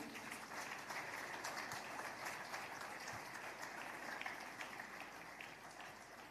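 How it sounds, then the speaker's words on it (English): A faint, steady round of audience applause at an entrepreneurship event, dense clapping from many hands sustained evenly throughout, slightly distant in tone. "Let's keep the applause going."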